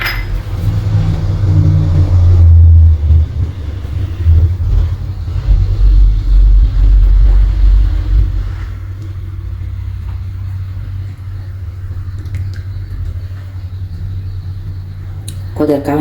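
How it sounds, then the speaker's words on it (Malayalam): A kitchen mixer grinder crushes roasted chickpeas and pistachios with a loud, close rumbling whir that eases off midway into a steadier, quieter hum, with glassy clinks and a voice talking over it. "നമ്മൾ ക്രഷ് ചെയ്ത് വെച്ചാൽ പൊട്ടുകടലും പിസ്തിയിലേക്ക് ഇട്ട് കൊടുക്കട്ടെ."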